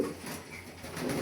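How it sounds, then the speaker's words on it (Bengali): A large, strong racing pigeon of Dutch and Belgian lineage gives a soft, low coo close by, faint against a quiet room background with no speech. "খুবই পছন্দের একটা কবুতর।"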